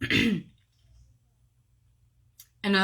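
A short, harsh throat clearing and cough, close and loud, followed by near silence and then the start of another rough burst.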